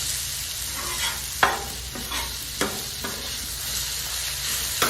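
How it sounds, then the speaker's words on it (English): Peppers and onions fry in bacon fat with a steady, crackling sizzle, and a few spatula scrapes and knocks cut through the hiss at intervals. "And I want these veggies inside my bacon fat."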